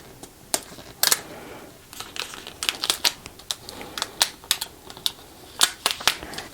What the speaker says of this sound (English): peel back the carrier sheet, leaving the vinyl on the transfer tape